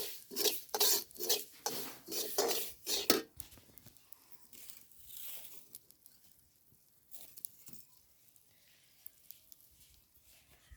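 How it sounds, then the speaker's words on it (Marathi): Poppy seeds dry-roast in a pan with quick, rhythmic scraping strokes for about three seconds, then fade to faint, scattered rustles and taps. "हो का खसखस टाकायली. आता लय उडत असते ना पटकन भाजून घ्यायची"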